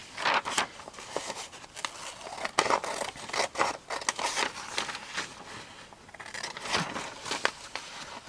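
Scissors snip pictures out of magazine pages: a close, continuous run of crisp blade cuts and paper rustles in quick uneven rhythm, with brief pauses between cuts and no talking.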